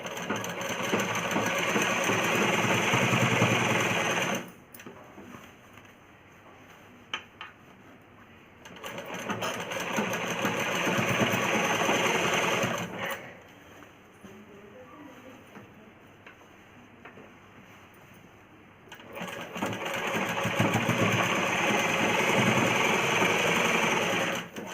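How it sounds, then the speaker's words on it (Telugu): A sewing machine double-stitches an umbrella frock for a five-year-old child, running in long steady whirring bursts separated by quiet pauses, close and clear. "డబుల్ స్టిచ్ చేస్తున్నాను."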